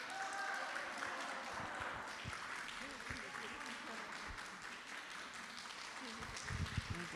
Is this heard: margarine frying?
no